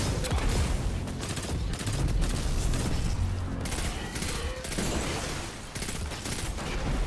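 Pulse rifle fire in Destiny 2: rapid bursts of gunshots mixed with booms and mechanical clatter, dense and loud across the whole stretch with no talking.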